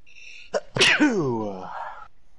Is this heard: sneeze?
yes